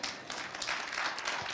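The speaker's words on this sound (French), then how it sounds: "j'entends juste 2-3 personnes qui applaudissent" Sparse applause from just two or three people during a church service, a soft, continuous patter of clapping that stays faint throughout.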